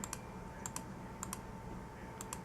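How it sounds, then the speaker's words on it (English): Computer keyboard and mouse shift-clicking while selecting colors in a digital art program: paired sharp clicks in a steady rhythm, close and fairly quiet over a low hum, no talking. "start shift clicking"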